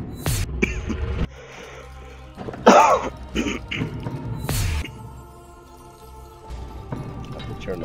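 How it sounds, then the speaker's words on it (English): A person with a cold coughs and clears their throat several times in short bursts, close to the microphone, with quiet pauses between and a faint hum underneath. "Have to turn the mic off every time I cough."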